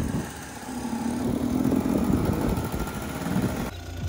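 A car engine running steadily while driving along coastal roads in Crimea, a continuous low rumble heard from inside the car without talk, ending in a slight drop in level.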